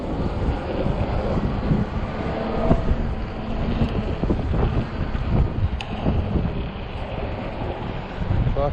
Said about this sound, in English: Fucking windy day.